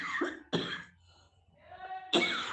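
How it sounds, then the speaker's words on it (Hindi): A woman coughs several times in short, harsh bursts, close and fairly loud, with brief quiet gaps and throat clearing between them. "वो खाँसी हो रही थी थोड़ी-सी।"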